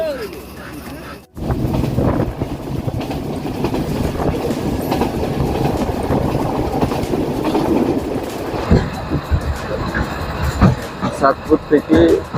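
Meghna Express passenger train running on rails, a loud continuous rumble with rhythmic wheel clatter over the track joints and a brief dropout near the start, heard from inside the train, with a person talking over it.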